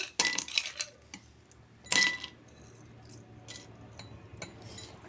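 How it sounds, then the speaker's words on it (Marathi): Ice cubes clink and rattle into a serving glass in two quick bursts, close and bright, followed by quieter faint clinks, before bael fruit sherbet is poured over them. "लास्टमध्ये बर्फाचे खडे टाकायचे"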